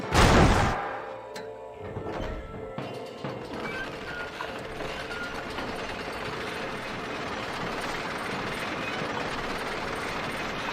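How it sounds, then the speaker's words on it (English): Lift gears engage in Red Dead Redemption with a sharp mechanical clank, followed by a steady ratcheting grind of the gears and pulleys as the lift begins hauling its load, sustained and fairly close. "Load up and I'll engage the gears."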